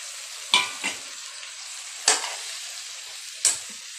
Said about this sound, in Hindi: और हम अब कटे हुए टमाटर डालते हैं